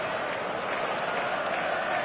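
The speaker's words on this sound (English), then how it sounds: "the crowd level has gone up a notch or 10" A football crowd applauding and cheering after a goal, a dense, steady roar of clapping and voices filling the stadium, loud and continuous with no single voice standing out.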